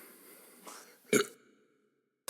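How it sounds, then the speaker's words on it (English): A single short, fairly quiet burp comes after a faint throaty lead-in, then gives way to near silence. "there's a burp coming in"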